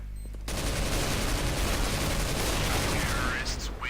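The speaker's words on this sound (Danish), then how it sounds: "han skår mange skud" Counter-Strike: Global Offensive gunfire, a loud, dense burst of rapid automatic shots continuing for several seconds, with faint talk underneath.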